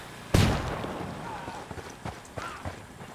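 A flashbang grenade goes off in the Ghost Recon Wildlands video game as one sudden, loud burst with a deep thump, then trails off into a noisy, reverberant tail while game voices continue faintly underneath.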